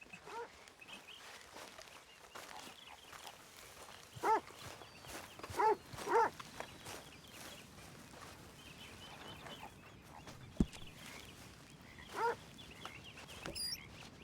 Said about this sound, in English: Arthur, a dog.